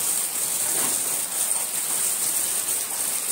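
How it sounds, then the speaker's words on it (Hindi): Heavy monsoon rain pouring steadily during flooding in a housing society, a continuous dense hiss with no speech over it. "अरे वर्षा तो फूल चालू है"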